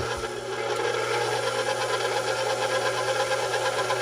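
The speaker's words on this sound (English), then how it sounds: "But for gluten-free dough, you have to use a wire whisk, okay?" Electric mixer fitted with a wire whisk whipping gluten-free pizza dough, a loud, steady motor whir with a constant rattling buzz from the whisk in the bowl, running without pause.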